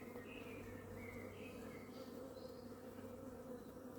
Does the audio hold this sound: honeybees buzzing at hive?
yes